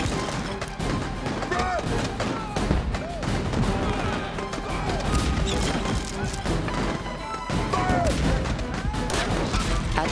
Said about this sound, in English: the cannons began firing together, battering the church with astonishing rapidity